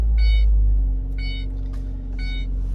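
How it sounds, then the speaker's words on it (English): A car engine rumbles steadily at close range, with three bursts of high electronic warning chimes sounding over the low idle; no one speaks. "starting up the car"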